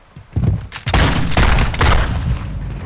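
Rapid revolver shots fire in a video game, a quick burst of loud sharp bangs with some echo over about two seconds.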